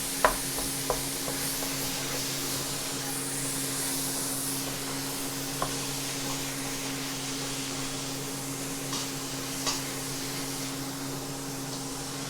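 Minced meat frying and sizzling in a pan for pad kra pao, a steady broadband hiss with a few sharp clicks and taps of a utensil stirring and breaking up lumps, close and continuous with no talking.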